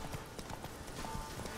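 Horse hooves clip-clop in the video game The Witcher 3, a steady rhythmic trot of soft thuds heard faintly under dense game ambience.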